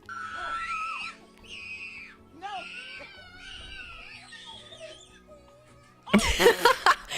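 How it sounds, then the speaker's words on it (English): A little girl screaming at an outdoor tradition event, her high, wavering cries rising and falling over several seconds before a sudden burst of loud, rough noise at the end. "I just heard a little screaming."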